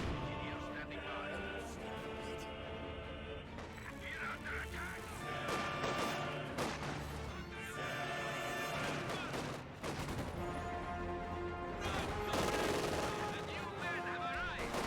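Dense battlefield gunfire and explosions from the World War II strategy game Company of Heroes 2, with rattling bursts and crashes layered continuously, a commentator's voice talking over the din.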